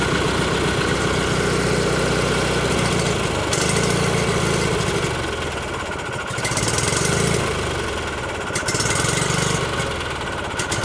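Argo amphibious vehicle engine running steadily after fuel system repair, a loud close idle with rhythmic pulsing and periodic surges in note, no talking over it.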